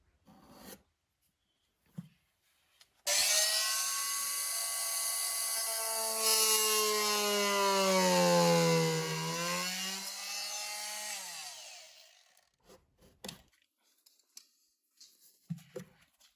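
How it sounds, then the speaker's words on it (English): A power tool cuts back a wooden baseboard to make room for a plinth block during door trim installation, a loud sustained whine with a pitch that sags in the middle, followed by scattered knocks and clatter. "now I have to cut back the baseboard so I can fit the plinth block"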